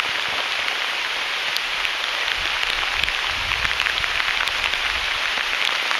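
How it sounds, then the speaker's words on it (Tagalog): Heavy rain falls steadily on a hiking trail, a dense, even hiss that fills the whole stretch with no voices. "Ni ulan. Kusog kayong ulan."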